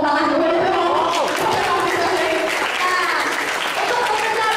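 An audience at a motivational session bursts into applause, a dense wash of clapping from many hands that fills the room for several seconds and stays loud throughout, with some voices mixed in.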